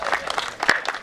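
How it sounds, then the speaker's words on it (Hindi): Audience applause at a Hindi comic poetry gathering, a dense burst of clapping from a crowd that fills the short moment evenly at moderate loudness. "तालियां।"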